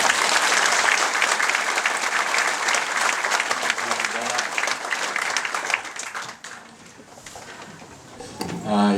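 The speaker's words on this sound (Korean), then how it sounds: "박수로." A church congregation applauds at a 20th-anniversary founding worship service. Dense, loud clapping fills the hall for about six seconds, then thins and fades, and a voice begins speaking at the end.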